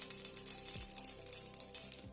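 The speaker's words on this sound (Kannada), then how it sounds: "ಇವಾಗ ಬಾಣಲೆ ಇಟ್ಟಿದ್ದೇನೆ, ಸ್ವಲ್ಪ ಎಣ್ಣೆ ಹಾಕ್ತಿದ್ದೇನೆ ಅದಕ್ಕೆ ಫ್ರೈ ಮಾಡಲಿಕ್ಕೆ" Oil crackles and sizzles in a frying pan heating up for an Andhra-style chicken dry fry, a steady hiss broken by repeated brief pops, close and fairly quiet with no talking.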